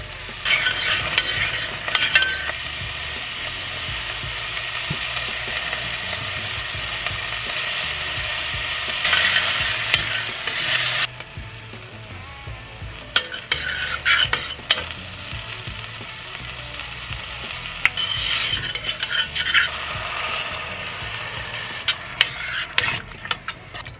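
Ghee sizzles on a griddle as food fries, a loud continuous crackle close up with repeated scraping and stirring strokes of a utensil against the metal, alone without talk.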